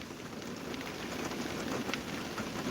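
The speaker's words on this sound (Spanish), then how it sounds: "Así que llueve." Steady rain falls at night, a dense even hiss of drops pattering on a surface close by, continuous for a few seconds with no voices.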